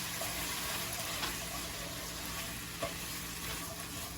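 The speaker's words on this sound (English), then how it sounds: "Just gonna start stirring. Make sure you stir it so we can get all that flour off." Flour is stirred into gravy in a pan, producing a soft, steady bubbling sizzle at low volume, with a faint scrape or two of the utensil and no voices.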